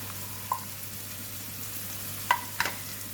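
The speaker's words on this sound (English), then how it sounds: "Give it a stir." Brinjal stir-fried with curry powder in a pan, a faint low sizzle with a few sharp clicks of a utensil against the pan while stirring, no talk.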